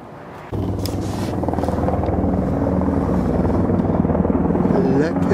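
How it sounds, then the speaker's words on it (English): Black military helicopters fly overhead with a loud, steady rotor thump that starts abruptly and holds throughout, close and droning with a low chopping pulse. "Black helicopters. Little boys. Military. Looking for UFOs."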